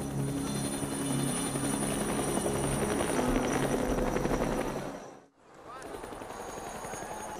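A helicopter thunders overhead at a meditation retreat in the Andes during a police raid, its rotor chop loud and steady, then briefly cut off before resuming, with a voice speaking over it.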